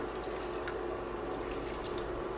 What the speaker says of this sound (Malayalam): ഇതിലേക്ക് നമുക്ക് ആവശ്യത്തിന് വെള്ളം ഒഴിക്കാം